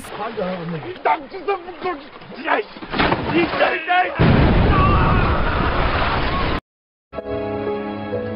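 People talk, then a loud tank cannon blast booms and rumbles for a couple of seconds before music comes in.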